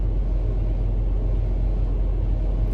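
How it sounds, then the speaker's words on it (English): A truck engine idles with a steady, low, even rumble, moderately quiet and constant throughout with no talking. "I actually like the fact that this truck is not as loud as my last truck."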